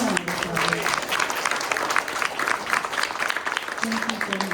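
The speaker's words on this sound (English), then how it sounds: "Can you all please give them a round of applause?" An audience at a human services candidate forum applauds the event organizers, a continuous wash of clapping lasting several seconds, with faint murmurs and a voice briefly audible beneath it.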